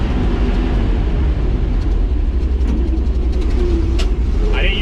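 An old farm truck running in fifth gear, its engine giving a steady, loud low rumble throughout with faint rattles on top.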